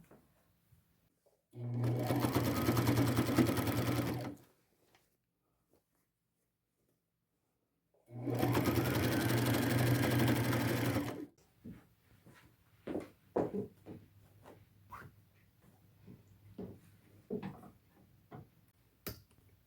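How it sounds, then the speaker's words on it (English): A sewing machine stitches pleats into denim bib overalls in two steady, whirring runs of a few seconds each, separated by silence, followed by scattered light clicks and handling of fabric. "I will just pinch pleat that a little bit as I sew."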